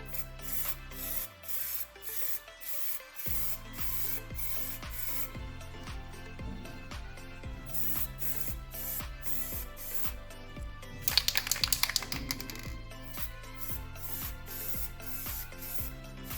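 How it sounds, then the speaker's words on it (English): Spray can coating one side of a heat shield, with short hissing bursts and a longer continuous spray, close up over background music that runs throughout. "Right, time to spray this side."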